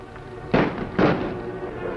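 Two sharp pistol shots ring out about half a second apart as a radio drama sound effect, each a loud crack with a short decaying tail, set against a quiet background hum.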